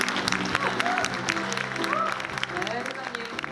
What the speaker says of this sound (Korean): 우리 최병호 회장님을 큰 박수로 환영해 주시면 감사하겠습니다